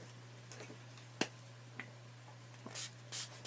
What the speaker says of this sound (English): I like to spray it on my craft mat